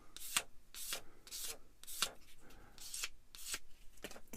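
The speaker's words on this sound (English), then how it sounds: "let the sander do the work" A hand sander strokes back and forth over a small plastic model kit part, giving rhythmic rasping bursts about every half second, close and fairly quiet.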